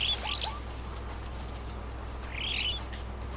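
Birds in an African savanna video game chirp and tweet in short, high, bright bursts, several quick calls early and again near the end over a steady low background hum.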